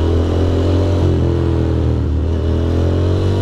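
A Ducati Monster 620 motorcycle engine runs steadily nearby, a loud, constant low rumble and throb at a near-steady idle, with no talking.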